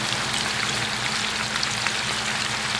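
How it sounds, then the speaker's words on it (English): Pork browns in a hot skillet with a dense, steady sizzle and crackle of frying meat, close and continuous, with no voices. "So I'm going to get the pork in here and brown that up"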